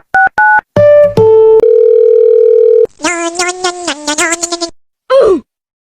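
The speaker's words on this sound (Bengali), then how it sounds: "আমি স্যারকে ফোন করতেছি।" Telephone tones sound as a call is placed: a few short beeps, then a long steady dial tone, followed by a rapid burst of ringing or dialing tones and a brief final blip before silence.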